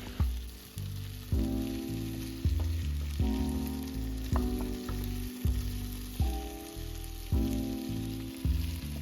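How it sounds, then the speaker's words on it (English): Butternut and onion sizzle steadily in a hot pan while being stirred, with soft clatters over a gentle background of music. "we continue frying the butternut with the onion mix"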